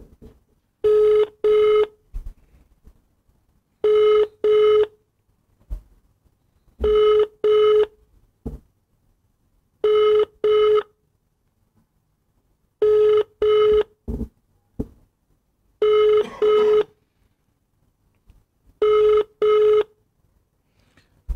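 A telephone ring tone sounds while calling a scholarship board, repeating as paired double rings in a steady pattern about every three seconds, clear and close, with faint background noise between rings.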